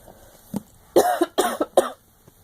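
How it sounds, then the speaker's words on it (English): A series of harsh, raspy coughs, one faint one followed by a cluster of four loud ones close to the microphone, with brief pauses between. "I'm sorry for the coughing."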